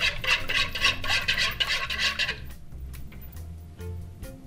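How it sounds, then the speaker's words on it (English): Egg and cinnamon mixture for French toast whisked in a bowl, a fast rhythmic scraping clatter close by that runs steadily for two seconds and then gives way to a few scattered knocks over a low background hum. "Whisk again."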